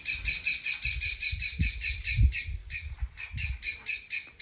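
Bird calling in a garden: a steady run of rapid, repeated high chirps or squawks goes on throughout, fairly close and clear, with low rumbling wind noise underneath.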